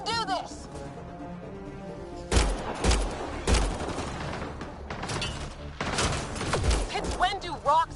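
Gunfire in the video game Mass Effect Andromeda: bursts of sharp shots and heavy thuds come in clusters, loud and punchy, mixed with voices talking.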